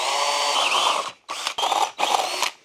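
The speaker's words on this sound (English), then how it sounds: "So I ditched the 2 big holes and drilled 4 small holes" A power drill bores holes into concrete for an under-stairs storage bracket, running loud and close in three sustained bursts separated by short pauses.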